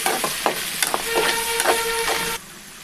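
Chopped onions and tomatoes fry in hot oil for a crab curry, giving a close, steady sizzle broken by a series of scraping stirs. The sizzling cuts off abruptly near the end.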